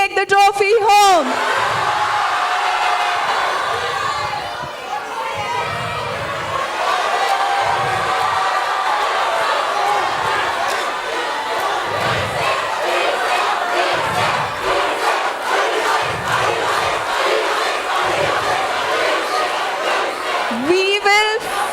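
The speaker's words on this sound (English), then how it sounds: "keep cheering because your teams really, really could do with some" A school audience at a youth competition finale cheers loudly and continuously, with rhythmic chanting and whoops, and shouted voices at the start and end.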